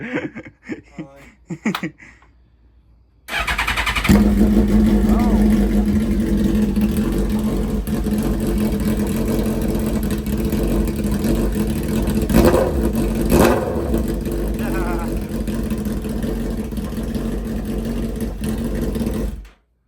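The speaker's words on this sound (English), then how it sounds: "Pure exhaust video, Mexican Ghost Rider, without his permission" Suzuki GSXR 1000 motorcycle with a clean air mod, exhaust revving loud and close for a long steady stretch with rising and falling throttle, after a brief quieter opening.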